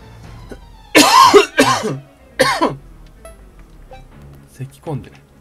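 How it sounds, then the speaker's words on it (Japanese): Three or four harsh coughs in quick succession from a character in a Sakura Taisen game on Dreamcast, loud and close, followed by quieter short sounds and a brief voice. "咳き込んで"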